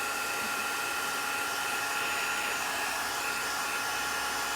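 A hair dryer or heat tool dries distress oxide ink on a card background, giving a loud, steady, broadband blowing roar held alone for the whole stretch without a break.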